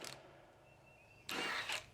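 An impact wrench rattles a lawn mower bolt in two short hammering bursts, one brief at the start and a longer, louder one after a quiet pause, close by in a workshop.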